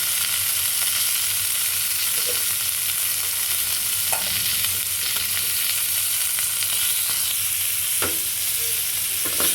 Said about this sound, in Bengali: শুটকিটা সুন্দর করে ভাজবো